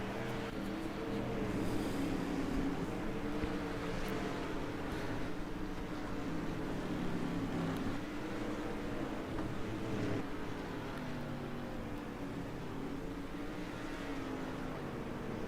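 Dirt track race cars from World of Outlaws: Dirt Racing roar in a continuous, loud engine drone with shifting revs, a dense pack of motors sustained throughout a regional race.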